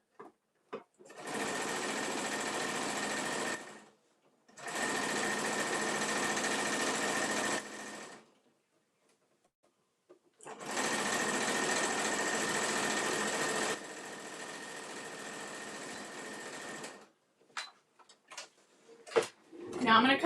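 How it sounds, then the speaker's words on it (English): A sewing machine stitches the bottom seam of a full-size top-handle tote bag, running in three steady bursts of a few seconds each separated by pauses, with small handling clicks and taps at the end. "I'm going to sew down the bottom seam of the bag."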